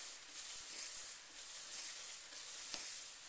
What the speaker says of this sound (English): I'm going to wet my sandpaper, and I'm just going to rub this back and forth